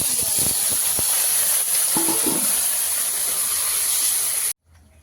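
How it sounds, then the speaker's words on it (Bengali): Water boiling in a pan of potato, tomato and spice curry, giving a steady loud hiss with a few clinks and knocks early on before the sound cuts off abruptly near the end. "জলটা ফুটে উঠেছে"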